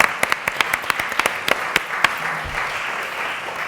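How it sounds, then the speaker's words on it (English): Audience applause at a lecture on investing for innovation, a brief burst of many hands clapping that thins out and fades within a few seconds. "So you can now clap yourselves"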